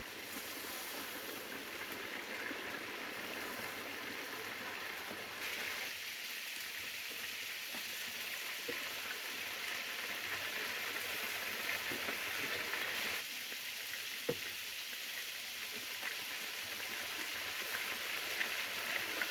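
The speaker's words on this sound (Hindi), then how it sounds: "तकरीबन परफेक्ट फ्राई हो चुके हैं और चारों साइड से कलर आ चुका है" Beef gola kababs frying in a pan over medium heat, giving a steady, even hiss of hot oil that runs unbroken the whole time, with a soft shift in tone midway and a faint clink near the end.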